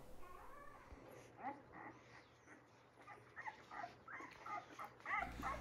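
One-week-old silver and chocolate Labrador puppies give soft whimpers, squeaks and small yips, faint and intermittent over a quiet background.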